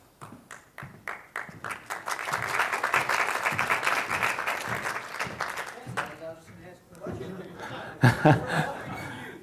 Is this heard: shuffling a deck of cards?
no